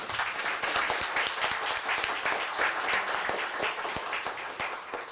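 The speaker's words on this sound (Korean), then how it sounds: "우리 어르신들께 다시 한번 우리 박수를 좀 부탁드립니다" Sustained audience applause at the close of a university seminar on bio-defense strategy, dense steady clapping from a sizeable crowd honoring elder statesmen, with no talk over it.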